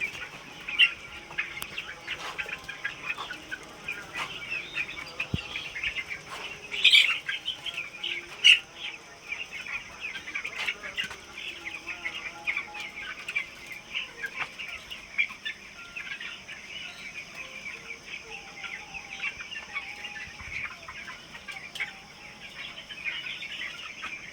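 A large flock of 14-day-old broiler chickens, about 600 grams each, on a raised slatted-floor poultry farm makes steady, dense chirping and clucking with scattered sharper calls, moderately close and continuous.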